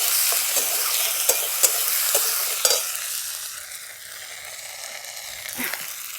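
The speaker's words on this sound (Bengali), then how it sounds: "টমেটোগুলো আমি একটু ভাজা ভাজা করে নেব। এবার এর সাথেই দিয়ে দিচ্ছি আদা আর কাঁচা লঙ্কা বাটাটা।" Tomatoes frying in a pan with ginger and green chili paste, a steady close sizzle with repeated scraping stirs of a spatula, loud at first and easing slightly toward the end.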